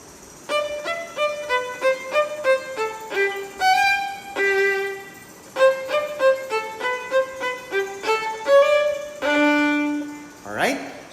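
A bowed string instrument plays a Gavotte in crisp staccato, short detached notes in quick phrases with brief pauses, close and clear, ending on a rising scrape.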